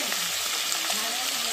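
Chicken biryani masala being stirred in a hot pan, a brief burst of frying sizzle with scraping movement, close up.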